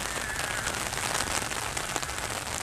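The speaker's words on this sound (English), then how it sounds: "Over 5 inches of rain now in a matter of hours." Heavy rain pours steadily onto surfaces in Phoenix during historic flash flooding, a dense, continuous hiss of drops close by with no voices.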